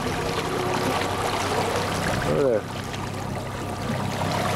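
Floodwater surges steadily through a swollen creek, a continuous broadband rush close by, with a person speaking briefly over it.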